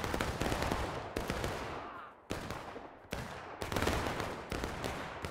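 Musket volleys crack out in the American Civil War game War of Rights, several loud separate blasts each followed by a decaying rumble, with scattered distant shots between them and no talk.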